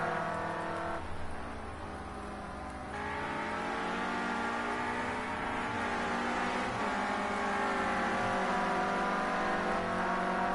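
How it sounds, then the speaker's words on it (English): Renault Clio Cup race cars run on a very wet track in fog, their engines droning and revving steadily, loud and sustained over the whole stretch with no talk. "A very, very wet track out there now. Sadly for Fraser, he's right in the spray of Scooby's car."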